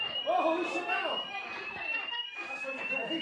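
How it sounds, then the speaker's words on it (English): A fire alarm shrieks with a continuous high electronic tone at a wrestling show venue, sounding steadily throughout beneath an announcer's voice and crowd noise. "he set off the fire alarm"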